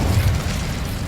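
Incendio fire spell cast in Hogwarts Legacy, a loud, low whooshing burst of flame that roars steadily for about a second without fading.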